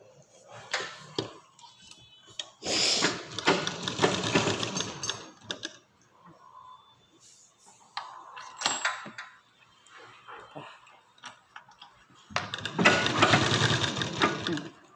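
Sewing machine stitching a pressure strip onto a garment lining, running in two loud bursts of rapid mechanical stitching separated by quieter handling and brief pauses.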